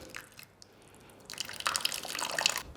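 Lemon juice drips and trickles into a pot of rolled stuffed vine leaves (warak enab) dressed with olive oil. After a quiet start, the light patter swells into a steady run of close, wet droplets.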